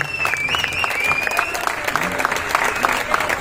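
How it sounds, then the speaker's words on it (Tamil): Audience applause at a film audio launch event, a steady wash of clapping from a crowd with a sustained tone and some voices underneath. "சோ இந்த படத்தை ஒரு சூப்பரா கொண்டு வந்திருக்க வசந்தகுமாருக்கு பெரிய கைத்தட்டல்கள் கொடுங்க"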